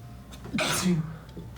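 A single sharp sneeze bursts out in the middle, brief and close, with faint background noise before and after.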